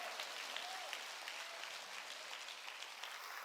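A church congregation claps together at a Korean sermon, a steady, even patter of many hands heard from some distance, filling the whole stretch without any voice over it.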